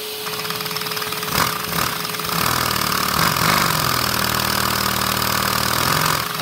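A Lego nitro engine runs with no flywheel, producing a steady close mechanical drone with a diesel-like clatter that rises in strength partway through and holds without talk.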